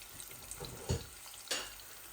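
Onions drop into hot oil in a pan already holding a couple of bay leaves, setting off two brief, louder bursts of sizzling over a low, continuous frying hiss. No speech.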